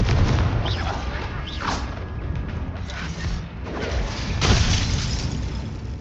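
A Confringo fire spell explodes in Hogwarts Legacy with a loud, sustained fiery blast and crashing rubble, a rumbling roar that swells again near the end, heard alone without talk.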